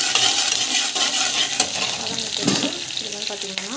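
Onions and mustard seeds sauté in hot oil for kara kuzhambu, a Tamil tamarind curry, with a steady loud sizzle and repeated stirring scrapes of a spoon against the pan.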